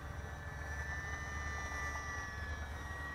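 A small Park Zone ICON A5 radio-controlled model seaplane's electric motor runs at half throttle, giving a steady, even buzzing whine with a faint tonal edge, heard alone at moderate distance for a few seconds.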